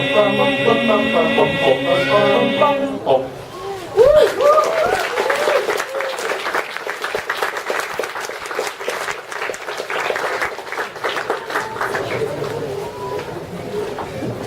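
An audience at a book launch applauds the Singapore Men's Chorus after a song; the last sung notes fade at the start, then steady clapping runs on with a voice speaking over it.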